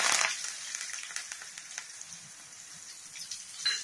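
Curry leaves sizzling in hot oil, a bright crackling spatter that bursts loudly at the start then settles into a steady close hiss with a final flare.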